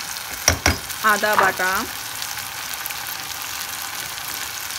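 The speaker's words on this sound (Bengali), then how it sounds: "টমেটো কুচি দিয়ে হালকা একটু ভেজে টমেটোটা নরম করে নিতে হবে।" Chopped tomato fries in a pan with a steady, faint sizzle running throughout, while someone speaks briefly near the start over a couple of clinking knocks.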